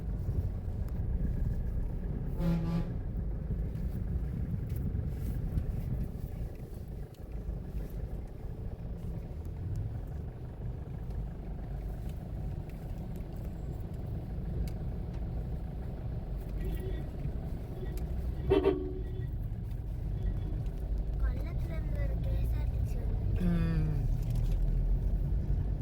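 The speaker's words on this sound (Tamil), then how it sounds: "பாரு லாரி கஷ்டப்பட்டு ஏறுது பாரு" An overloaded lorry grinds slowly uphill, its engine a heavy, steady low rumble that carries on throughout, with wind buffeting the microphone and voices occasionally talking over it.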